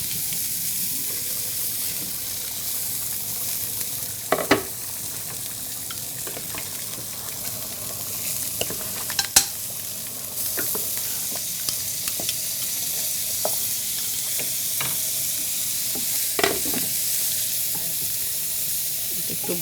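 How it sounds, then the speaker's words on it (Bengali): Continuous sizzling of carrots frying in butter in a pan, with occasional scraping clicks of a utensil stirring; no voices. "এটাও একটু বাটারে ভেজে নিতে হবে ওটা একটু খুলে নেড়ে দিতে হবে"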